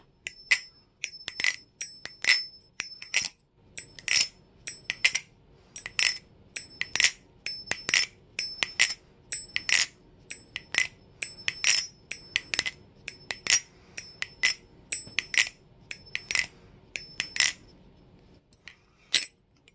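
A clone Alpha Beast balisong butterfly knife, its blade sanded, being flipped: a quick, irregular series of sharp metallic clicks and clinks from the handles, close and distinct against silence, with no talk.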